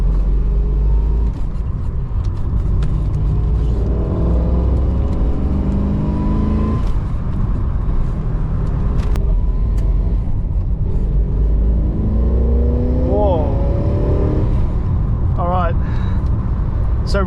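A Holden VK SS Group A 'Blue Meanie' pulls out of a roundabout, its engine droning close and loud, then climbing through the revs on hard acceleration with a couple of sharp rising pitch sweeps near the end.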